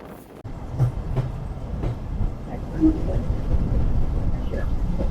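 Commuter train pulling into Nizampur railway station, heard from inside a carriage as a steady low rumble with faint wheel clatter and knocks, growing slightly louder toward the end.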